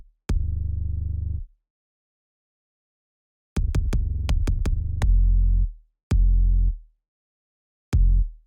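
A deep sub bass synth from a beat plays with a kick drum layered in, giving sustained booming low notes and a quick run of punchy kick hits, then spaced single bass hits, all without talk.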